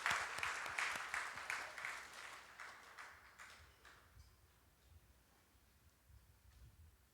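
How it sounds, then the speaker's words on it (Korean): Church congregation clapping together after a Sunday service, with brisk applause that starts dense and fairly near, then thins out and fades to a few scattered claps over several seconds. "제가 여러분의 박수를 보내겠습니다"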